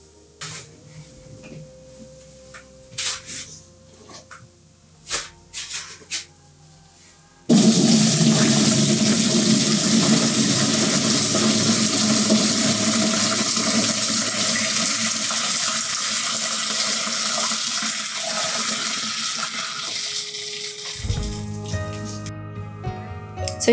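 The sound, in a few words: straining rowan berry dye water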